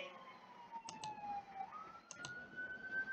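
An ambulance siren passes outside, its wail rising and falling steadily under scattered bursts of background noise, moderately loud throughout.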